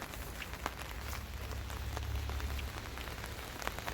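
Steady rain pattering on surfaces at a public campground beside a mountain stream valley, a constant dense patter with occasional louder drops and a low rumble underneath, with no talking.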